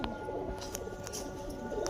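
A Kalsara pigeon gives soft, low cooing in the background. It is faint and continuous, with a few light chirps over it.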